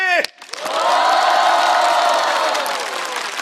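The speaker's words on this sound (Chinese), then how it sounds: "来，让我们再一次掌声欢迎所有嘉宾。" A studio audience on a Chinese roast comedy show breaks into loud applause and cheering for all the guests, rising after a brief announcer's voice and holding as a dense, sustained crowd roar.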